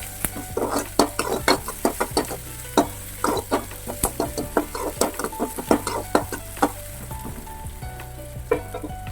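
Garlic, chilli and onion sautéing in ghee, with a spoon scraping and clattering against the pan in quick repeated strokes over a constant close sizzle.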